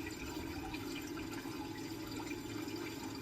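Water and material pour steadily into a gold sluice machine, making a continuous rushing, splashing wash that stays even and fairly loud throughout.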